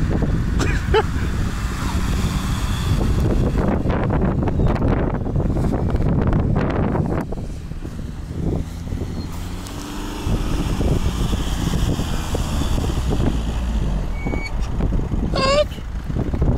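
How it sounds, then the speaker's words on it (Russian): A car revving its engine for drifting outdoors: a loud, sustained roar that swells and dips, buffeted by heavy wind noise, with brief voices. "как надо газовать."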